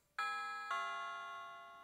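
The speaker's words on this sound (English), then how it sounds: "And even doorbells." A two-note doorbell chime rings out clearly, one strike closely followed by a second, the tone then fading slowly in a quiet room.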